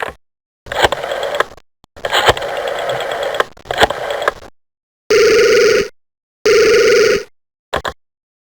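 A telephone rings in the 1997 Windows mystery game Foul Play: Mystery at Awkward Manor, with loud, near bursts of rapid bell ringing separated by silent gaps, followed by a short final chirp.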